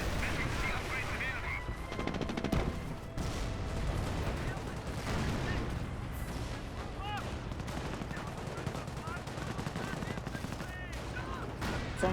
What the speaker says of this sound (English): Mortar half track firing away.